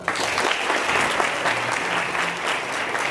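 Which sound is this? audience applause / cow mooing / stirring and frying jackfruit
audience applause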